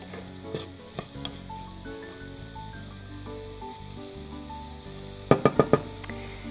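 Steady sizzling of onion and garlic frying in a pan, with a few sharp clinks and a quick burst of stirring taps near the end.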